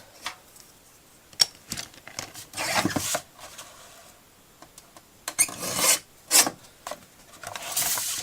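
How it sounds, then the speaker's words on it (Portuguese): Paper is trimmed on a guillotine cutter for a spring-themed scrapbooking album, with sharp scraping slices and rasping strokes that come in bursts between quiet gaps, up close. "Eu aqui vou só cortar para ficar mais ou menos os 3 centímetros aqui na minha guilhotina"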